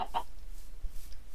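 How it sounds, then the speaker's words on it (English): A game chicken in a blocky survival world gives a couple of quick clucks near the start, followed by a quieter stretch of low background hum. "Chicken!"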